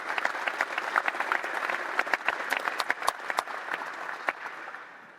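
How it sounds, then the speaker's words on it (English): An audience gives a round of applause at an IceHogs and Blackhawks affiliation announcement, a steady spread of individual claps with sharp nearby hits, fading out at the end. "ask you for a round of applause to appreciate all they've done"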